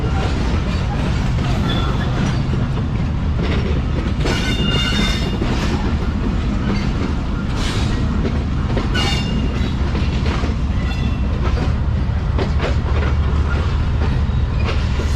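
Jaffar Express passenger train running on rails near Rohri Junction on Main Line 3 toward Sibi, a loud continuous rumble with rattling carriages and rhythmic wheel clatter throughout.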